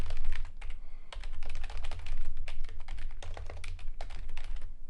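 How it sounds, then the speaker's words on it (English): Steady, continuous clatter of keys on a computer keyboard, close and fairly loud, with dense irregular keystrokes running throughout and no voices. "So if we type in"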